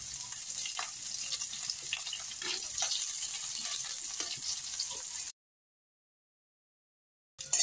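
Cumin, onion and green chili frying in a pan for a matar bharta tempering, a steady close sizzle with faint stirring that cuts to silence about two-thirds through, then briefly returns.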